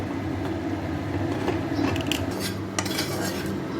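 A metal pressure cooker lid for vasanti polao is fitted and closed, giving clattering, scraping metallic clicks over a steady kitchen background hum.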